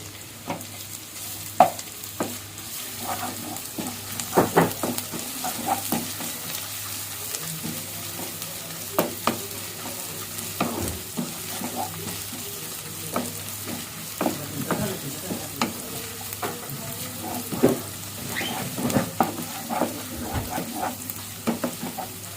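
Freshly pounded ginger-garlic paste fries in a pan for a Sunday fish curry, a steady sizzle broken by repeated scraping stirs and clinks of a spoon, close and fairly loud throughout with no talking.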